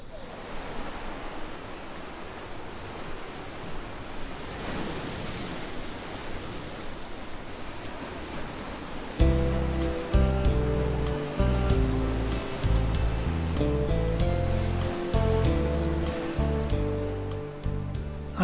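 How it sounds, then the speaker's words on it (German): Atlantic waves break and surge against a small seaside promenade on Tenerife, a broad continuous roar of surf, with a sudden burst of music entering halfway through. "An der Mini-Promenade schlagen die Atlantikwellen hoch, die hier bei Sturm recht kräftig sein können"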